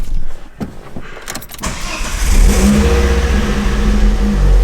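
A car engine cranks with a few sputters, then catches and revs up into a loud, steady roar that keeps running close by.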